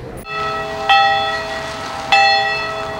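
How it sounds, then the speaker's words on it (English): Church bell tolling in a mountain town, two distinct ringing strikes about a second apart, each leaving a long, bright, slowly fading hum, heard clearly without voices. "The toll of a church bell echoes through the mountain town"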